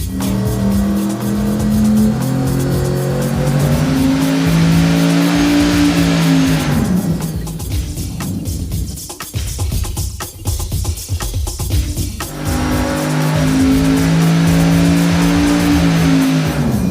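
A V8 engine on a dyno, set up to compare an intercooler against water-methanol injection, roars loud and close at sustained wide-open throttle, drops away for several seconds, then surges back up to full power.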